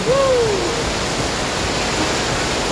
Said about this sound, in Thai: ตอนนี้เราอยู่กับน้ำตกนะครับนี่คือน้ำตกของเจ้าครับสวยงามมาก